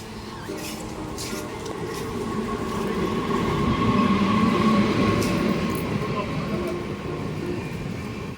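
A passenger train arrives and runs past, its steady rumble and rattling wheels building to a loud peak midway and easing off, with faint voices in the background.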